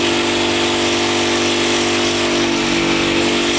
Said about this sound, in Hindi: ये होल बनाए जाते हैं ड्रिल मशीन से जिसमें आप स्ट्रैप डालते हैं।